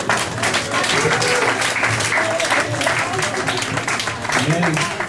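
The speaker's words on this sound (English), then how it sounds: "Another round of applause for Mr. Ken Kane, everybody." Sustained audience applause at a live event, loud and continuous clapping with voices and cheering mixed in throughout.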